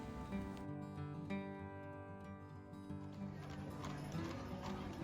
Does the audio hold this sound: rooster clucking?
no